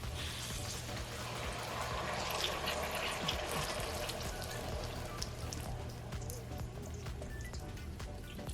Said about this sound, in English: So let's go ahead and add the water now.